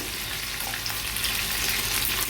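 Finely chopped green chillies, crushed ginger-garlic and curry leaves sizzle and crackle steadily in hot oil for an Agri Koli style vegetable tempering, a close, continuous frying hiss.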